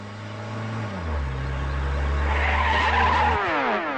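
A car brakes hard with loud tire squeal as the engine winds down, the screech rising and then cutting off as the vehicle stops close by.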